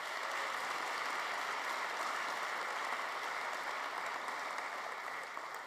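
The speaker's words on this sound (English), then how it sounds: "could we give them a quick round of applause?" An audience at a Stanford Athletics Hall of Fame ceremony applauds its coaches, a broad, steady roar of clapping that holds at a constant level from start to finish.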